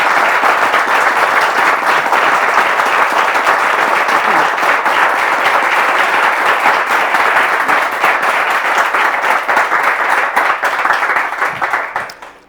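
A studio audience on a French-language television talk show breaks into loud, dense, sustained applause for about twelve seconds as a guest walks onto the set, then the clapping tapers off at the end.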